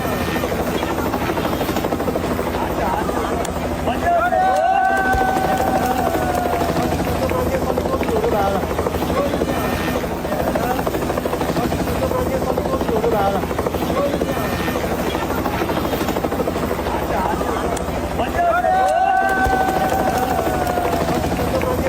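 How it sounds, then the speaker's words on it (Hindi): Rescue helicopter hovering over Nepal flash floodwaters, its steady rotor drone loud and continuous throughout, with a busy background of crowd noise and voices underneath. "हेलीकॉप्टर्स के जरिए जिस तरह रेस्क्यू हुआ"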